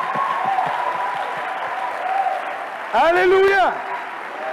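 A church congregation breaks into a short burst of applause and cheering in the middle of a sermon, loud and close, with a shouted voice over the clapping.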